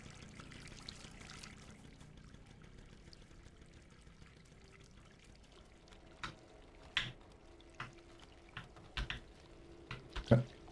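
Shower water drips in the video game Stray, starting as a soft wash of noise and then turning into sparse, distinct drips that grow more frequent toward the end.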